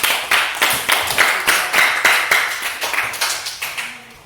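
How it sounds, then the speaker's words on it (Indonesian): A small classroom group claps in applause for a student, a rhythmic run of about a dozen closely spaced hand claps that fades out at the end. "tepuk tangan untuk Nona dulu."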